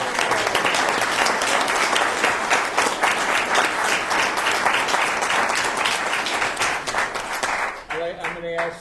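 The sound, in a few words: round of applause for parade committee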